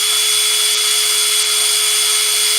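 Steady, loud power-drill whine running continuously while drilling holes by hand in a model of the space shuttle Atlantis, with no talk over it.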